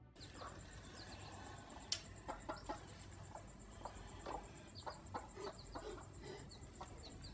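A mother hen and her chicks, threatened by a hungry snake, cluck in a scattered run of soft, fairly close calls, with one sharp click near the two-second mark.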